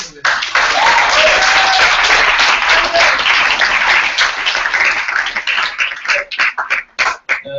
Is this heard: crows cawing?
no